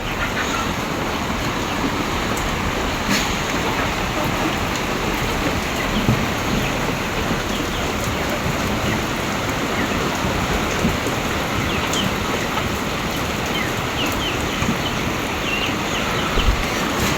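Steady, dense rain falls throughout in Emirdağ, Turkey, a continuous broadband hiss with scattered drops pattering on surfaces nearby; no voices.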